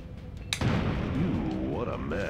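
A pipe bomb goes off in Duke Nukem Zero Hour as a single sharp, close blast with a brief rumbling tail. Voices talk and exclaim over the aftermath.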